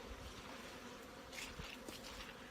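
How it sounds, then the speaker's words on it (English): Honeybees leave their hives on a cold early-spring evening around 5 degrees, giving a faint, steady buzzing drone of light flight with a few nearer passes standing out. "the bees are just getting up and taking a bit of a flight"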